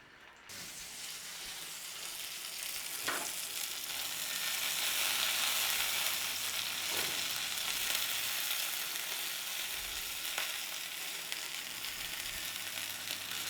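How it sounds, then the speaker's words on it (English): Homemade English pork banger sausage fries in a little oil, giving a loud, continuous close-up sizzle and crackle that holds for many seconds, with a few faint utensil taps. "So all we got to do now is fry one and give it a try."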